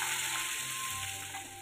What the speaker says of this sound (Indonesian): goreng tempe di minyak yang panas